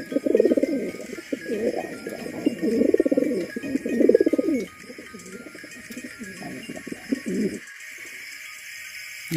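Pigeons at a breeder's loft coo in repeated throaty rolling bursts, close and fairly loud, for several seconds before fading to faint background noise.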